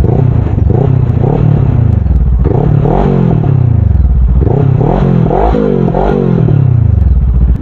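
A 270-degree twin-cylinder motorcycle fitted with an aftermarket exhaust pipe revs repeatedly in loud, close bursts, its pitch rising and falling in rhythmic throttle blips over a rough idle.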